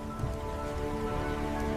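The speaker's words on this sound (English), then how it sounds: "Let's wait here until the rain stops." Steady rain falls in a constant, even hiss, with a faint musical tone underneath and no talking.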